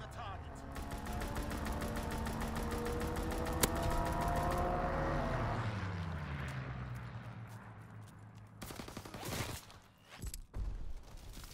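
Fighter plane strafing gunfire in Call of Duty WWII, heard as a loud, rapid machine-gun rattle over an engine drone for several seconds, then fading into scattered later bursts and crackling.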